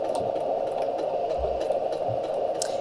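Sewing machine stitching a few stitches back and forth through the layers of a log cabin quilt, a steady close mechanical hum with faint rattling thumps and no talk.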